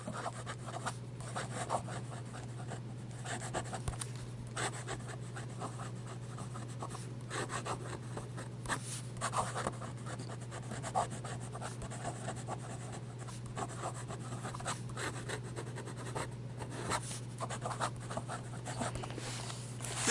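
Fast writing, with quick repeated scratchy strokes running steadily and close over a low constant hum, with no talking.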